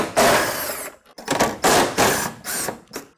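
Bolts being spun out of a car's inner fender bracket with a ratchet and socket extension, several bursts of loud, close, rapid mechanical whirring separated by brief pauses.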